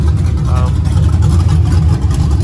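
A 1985 Squarebody pickup with an LS engine swap and manual gearbox, its exhaust work still unfinished, rumbles at a steady, close idle with a deep, even drone throughout.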